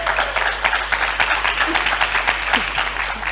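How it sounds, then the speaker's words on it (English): An audience at a church music gathering claps for Joycelyn, a lively, fairly loud round of many hands with a few sharper individual claps, a low steady hum running beneath. "Let's clap for her."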